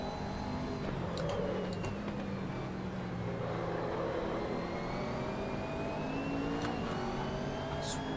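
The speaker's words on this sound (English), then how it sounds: "it looks like a Nissan GTR's going to overtake" A Nissan GT-R race car engine in the Assetto Corsa racing game closes in to overtake, a steady droning whir with rising pitch sweeps that grow louder as the car draws near, joined by other race engines.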